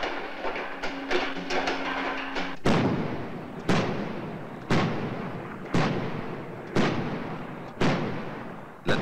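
The naval gun turret of the frigate João Belo fires a slow, regular series of heavy booming shots, about one per second, each with a sharp crack and a rumbling decay, after a few lighter pops at the start.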